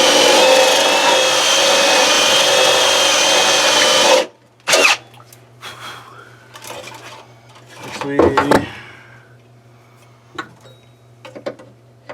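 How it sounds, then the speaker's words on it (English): A loud, steady power drill with a carbide burr grinds through a steel plate on a 1994 Saab 9000 shock tower for several seconds, then stops, followed by scattered clanks and handling noises. "Starting to drill through the other plate"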